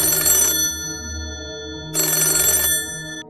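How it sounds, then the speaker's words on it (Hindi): A landline telephone's electric bell rings in two loud, close bursts of about half a second each, separated by a pause of roughly a second and a half. "तभी उसके पीछे रखे लैंडलाइन फोन की घंटी बजी।"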